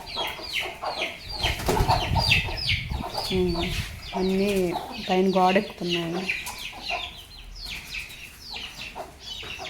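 Hens and chicks cluck and peep near a farmyard buffalo shed, with a run of drawn-out calls in the middle and sharp chirps throughout, while someone talks over them.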